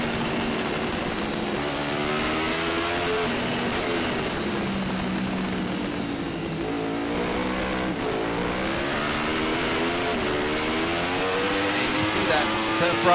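Yamaha R1 superbikes in an open superbike race on a track, engines screaming and rising through gears with audible shifts, loud and sustained as the bikes pass, with a commentator talking over them.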